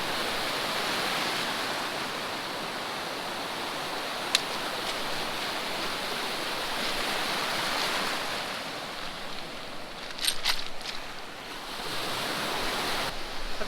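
Waves breaking on the rocky Lake Huron shore, a continuous broad wash of surf close by, with gusty wind and a couple of brief sharp clicks, steady and loud throughout.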